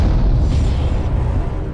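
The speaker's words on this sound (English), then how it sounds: "But what will happen if we make the same shot with a musket?" A French Dragoon musket of 17.5 mm calibre rings out as a heavy, loud boom and rumbling roar that fills the whole brief moment without any talk.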